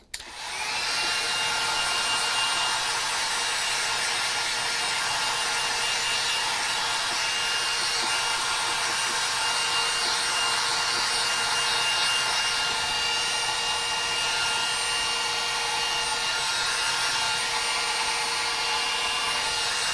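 An electric heat tool blows steadily to dry a watercolor wedding card, giving a constant loud whirring hiss that runs without a break and without talk.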